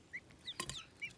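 Four-week-old guinea fowl keets, pied and lavender, chirp in a brooder with short, high peeps repeated in quick succession, faint and close.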